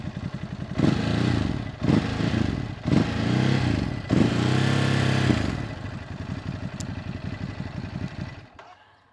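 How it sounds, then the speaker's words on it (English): A motorcycle engine revs hard in neutral in four quick bursts, each climbing toward its roughly 4000 RPM limit and falling off, then settles into a rough, uneven idle that fades at the end. "in neutral, the revving is restricted to 4000 RPM-ish, and that's why it sounds so rubbish"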